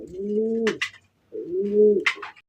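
A black Rasgolla pigeon at a farm gives two close, soft, throaty coos, each followed by a short rustle.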